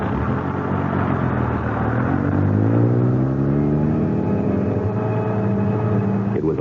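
A bus engine drives steadily as a radio drama sound effect, with a continuous low rumble and a rising, shifting whine as it gathers speed, moderately loud with no voices over it.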